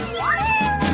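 A cat gives a single drawn-out, rising-then-falling meow, loud and close, alone without talk.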